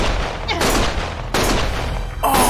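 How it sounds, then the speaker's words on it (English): Loud bursts of gunfire from the video game Lost Judgment, three heavy volleys close together separated by short lulls. "Stop shooting!"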